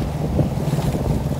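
Wind roars constantly across a sailboat in a choppy sea on a crossing from Dover to Eastbourne, a loud buffeting rush with the wash of waves beneath and no voices.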